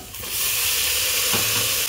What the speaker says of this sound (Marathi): फोडणीमध्ये आपलं शिमला मिरची वगैरे छान परतून झाले